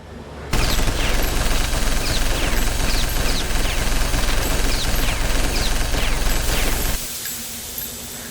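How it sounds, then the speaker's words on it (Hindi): Sustained, dense gunfire rattles continuously for several seconds, loud and close, then cuts off abruptly, leaving a quieter background. "गोली चलाती रहो।"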